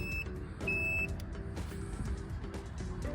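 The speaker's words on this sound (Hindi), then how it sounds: "बीप अभी ये कर रहा है क्योंकि इंडिकेटर ऑन है" Turn-indicator alarm on a budget 2023 electric scooter beeping: a few short, high electronic beeps, one longer, sounding close and clear over low background hum and rustle.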